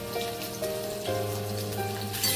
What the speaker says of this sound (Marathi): आता हे तुकडे ह्या फोडणीमध्ये टाकून घ्यायचे आहेत.